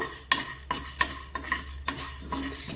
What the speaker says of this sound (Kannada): ಇದರಲ್ಲಿ ಸ್ಲೋ ಉರಿಯಲ್ಲಿ ನಾನೀಗ ಇದನ್ನೆಲ್ಲ ಚೆನ್ನಾಗಿ ಫ್ರೈ ಮಾಡ್ತೇನೆ.